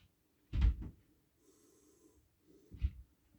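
Someone takes two short, quiet sniffs at a beer, one after another with a pause between, close to the nose and very soft against near silence.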